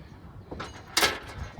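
A round key unlocks the trunk of a 1968 AMC Rambler American four-door sedan, which then opens: soft metallic clicks lead into one louder latch clunk, heard close up with no talking.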